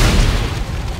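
A loud, booming gunshot blast fired at a creature in the sci-fi horror game Dead Space, a heavy low rumble that fills the whole second with no voices.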